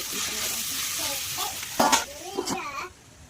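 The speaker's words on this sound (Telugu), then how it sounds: "క్యాప్సికమ్ ఫ్రై అవుతుంది" Soft sizzling of capsicum frying in oil, with a few louder scraping stirs near the end before it fades.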